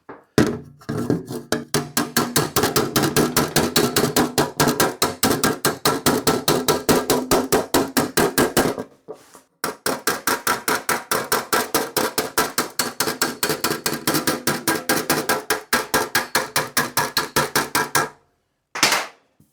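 Rapid, evenly spaced taps of a piece of wood against an aluminium kit car fairing, knocking down high spots; two long runs of sharp, close knocks separated by a short pause, with a final brief burst, no talking.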